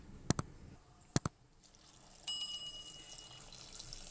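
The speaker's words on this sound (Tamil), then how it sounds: "இப்போ தேவையான அளவு தண்ணி ஊற்றிக்கிறேன்." A few sharp clicks, then water pours steadily into a pot of lentils for green chilli sambar, a continuous splashing hiss that lasts to the end.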